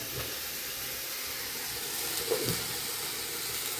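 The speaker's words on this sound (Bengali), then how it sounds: "গাজর একটু গ্রেট করে নিয়েছি, এইটা দিয়ে দেবো, একসঙ্গে ভেজে নেব। এই কম তেলেই ভাজবো" Grated carrot fries in a little oil with a soft, steady hiss and sizzle, close by and continuous, with one brief clink partway through.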